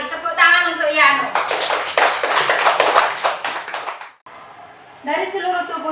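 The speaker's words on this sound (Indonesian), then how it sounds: "Tepuk tangan untuk Yano." Students in a classroom clap for a classmate, a short burst of brisk applause lasting a few seconds, framed by a teacher speaking before and after.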